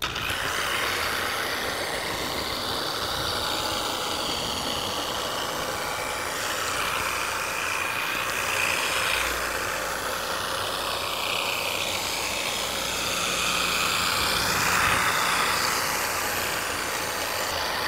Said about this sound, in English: I'm going to go ahead and set the Cyclo at a low speed.